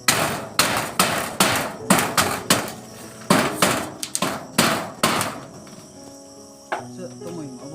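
Hammer blows during repair of a house roof: about a dozen sharp, ringing strikes in a steady, rhythmic series, close and loud, then stopping as a voice speaks faintly under a continuous insect-like background hum.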